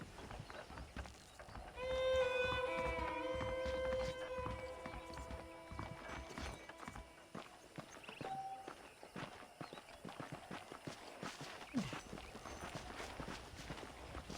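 Horse hooves clip-clop at a steady walking rhythm in the Red Dead Redemption Western game, close and moderately loud, with a sustained musical tone and other game sounds layered over the first few seconds.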